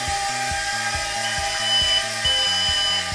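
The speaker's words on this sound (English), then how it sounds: "You're going to hear this beeping." Rhythmic electronic beeping from a WLtoys Q282-G micro hexacopter drone in headless mode repeats in quick pairs over a steady high-pitched motor whine, close by with no talking.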